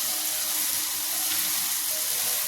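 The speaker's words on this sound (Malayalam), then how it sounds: "തക്കാളിയൊക്കെ നല്ലതുപോലെ വഴന്ന് വന്നിട്ടുണ്ട്" Tomatoes sauté in a pan with a loud, continuous hiss of frying oil that holds even and close for the whole short stretch, with no voices.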